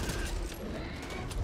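Rapid gunfire in the zombie shooter game Back 4 Blood, a dense, continuous burst of shots running through the whole moment at steady loudness with no talk over it.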